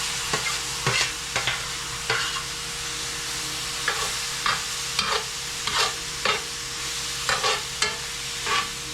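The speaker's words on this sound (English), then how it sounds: "And I'm going to let them shrimp cook up." Shrimp sauté in olive oil in a pan over medium heat for New Orleans po'boys, giving a steady sizzle broken by repeated scraping stirs of the utensil against the pan, close and without talk.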